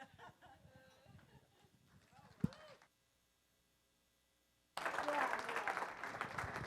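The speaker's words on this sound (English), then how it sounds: "Round of applause for the Senate" Voices on the Illusion Theater stage give way to a brief hush, then an audience bursts into loud, sustained applause that carries to the end.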